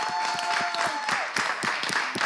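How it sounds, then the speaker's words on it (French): A French television studio audience claps to welcome Océane onto the set, moderate rhythmic clapping with a faint tone running underneath, brief and fairly even. "est-ce qu'avec les applaudissements du public, on peut recevoir Océane sur ce plateau?"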